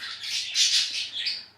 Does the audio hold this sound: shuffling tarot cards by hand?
no